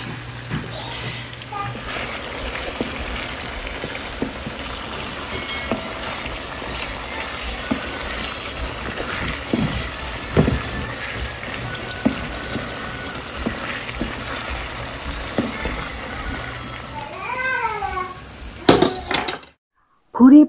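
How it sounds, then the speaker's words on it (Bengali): Beef tripe frying in a pan for a Bengali bhuna dish, a steady sizzle with occasional clinks and scrapes of a utensil against the pan, ending in a brief gap. "এবার শুধু ভাজা হবে।"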